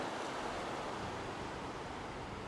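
Ocean surf rolls onto a sandy beach at Khuk Khak, Khao Lak, Thailand, a steady broadband wash of waves, even and continuous, moderately faint with no voices.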